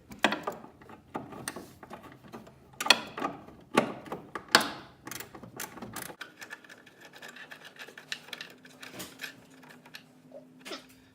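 A ratchet with an 8mm socket works a small bolt loose during clutch cable replacement on an Opel GT: a quick run of close, dry clicks and scrapes for about six seconds, then quieter handling and light mechanical rustle.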